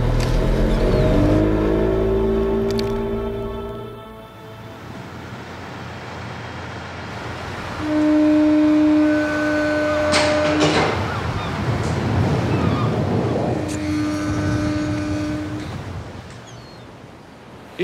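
A motor boat runs across the sea off Montenegro, its engine droning and rising in pitch in a few revving surges over rushing water and wind.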